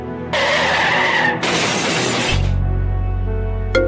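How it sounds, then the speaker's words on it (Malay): In the video game Roblox, a car hits a person: a sharp skid and loud shattering crash burst out, followed by a low steady hum and a brief bright chime near the end. "Ibu Yen kena langgar kereta?"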